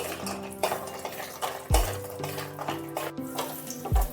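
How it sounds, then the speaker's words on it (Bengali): Cashews fry in ghee in a pan while a metal utensil stirs and scrapes, with repeated clanks and knocks against the pan over a continuous sizzle. "কাজুগুলো একটু ভেজে নিচ্ছি"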